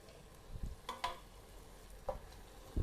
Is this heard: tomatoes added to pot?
yes